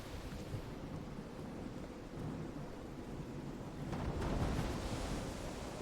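A thunderstorm in the video game Call of the Sea, with a steady rumble of rain and wind that swells into a louder roll of thunder near the end, no voices over it.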